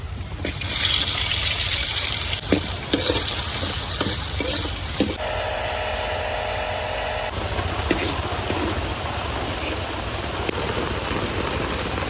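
Chopped onion, garlic and green chili hit hot oil in a village kitchen, throwing up a loud, dense sizzle with crackling spits that then settles into a steady, softer frying hiss.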